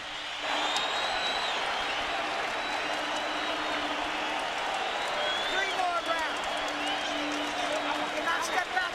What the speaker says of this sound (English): They're on their feet, standing and applauding both fighters.